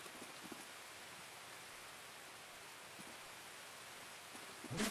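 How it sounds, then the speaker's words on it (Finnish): Steady rain patters directly onto a microphone outdoors, a dense even hiss with a few louder drop hits and a sharper knock at the very end. "Sataa mikrofoni."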